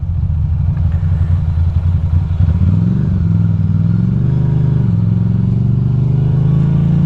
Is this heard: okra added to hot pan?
no